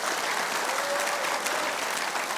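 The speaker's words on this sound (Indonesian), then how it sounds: "Tepuk tangan yang meriah untuk Bang Yos." An audience in a TV studio claps briskly, a short burst of lively applause at steady strength with no talking.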